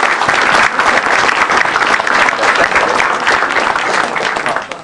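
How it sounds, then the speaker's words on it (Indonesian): A stand-up comedy audience breaks into loud, sustained applause as comedian Radit Fan is welcomed to the stage, dense clapping filling the room and fading slightly at the close. "ini dia tepuk tangan untuk Radit Fan"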